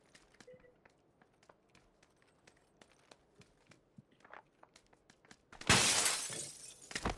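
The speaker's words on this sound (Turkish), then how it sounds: "Cam sesini duymadın mı?" Soft scattered clicks and taps, then a sudden loud crash of shattering glass that rings out and fades over a couple of seconds, in the video game PUBG: Battlegrounds.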